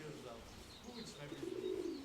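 Soft pigeon cooing, a low throaty murmur that swells toward the end, with faint chirps and background noise around it.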